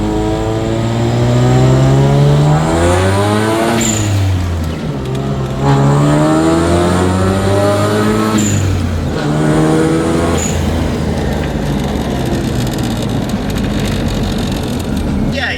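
A rotary-engine car accelerates on the road, its engine note climbing through repeated rising sweeps as it works through the gears, loud and close from inside the car.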